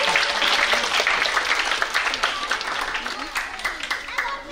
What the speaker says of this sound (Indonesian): Sekali lagi boleh tepuk tangan untuk Kak Jihan dan Kak Reski